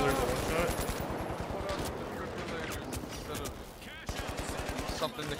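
Gunfire in the video game The Finals, bursts of rapid automatic shots rattling in quick rhythmic volleys, fairly close, mixed with game sounds and a sharp crack near the end.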